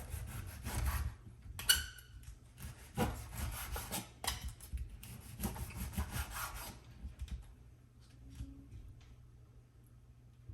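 A knife saws back and forth through a pan-fried garlic butter sirloin steak, giving soft, rhythmic rasping strokes that are close and fairly quiet, fading toward the end.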